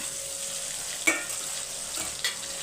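Two large onions sauté with chicken in a hot pan, giving a steady close sizzle with a couple of sharp stirring clinks.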